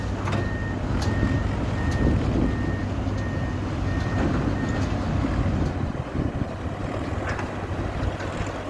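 Bulldozer working at reservoir dredging, its reversing alarm beeping in an even repeated pattern over a low diesel rumble and wind, with other heavy machinery nearby and moderately distant.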